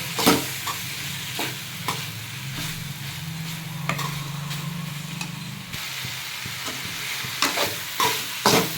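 Vegetable masala with tomato sauce, a filling for veg chapati rolls, sizzles loudly in a pan while a spoon stirs and scrapes it in repeated strokes, with a low steady hiss underneath.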